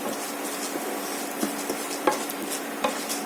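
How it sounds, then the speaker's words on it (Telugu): Cumin seeds lightly frying in a pan give a soft, steady sizzle with a few brief stirring scrapes and small clinks scattered through it. "జీలకర్ర కూడా వేసి చేయండి లైట్గా ఫ్రై చేస్తాం"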